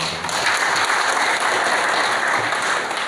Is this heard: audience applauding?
yes